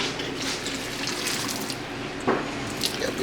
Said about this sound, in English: So take it over here. Drain whatever in the sink.